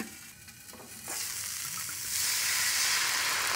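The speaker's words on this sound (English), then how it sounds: "Put the broccoli in. And I'm going to let that cook down just a few minutes to soften" Broccoli sizzles loudly in a hot pan for a beef stir fry, a steady close frying hiss that grows stronger in two steps and runs without talk.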